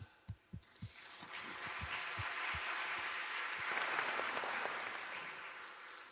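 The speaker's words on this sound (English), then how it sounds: "I don't want to stop you clapping" An audience in Stavros Niarchos Hall claps, starting with a few scattered, separate claps and quickly swelling into sustained, dense applause that stays at moderate loudness to the end.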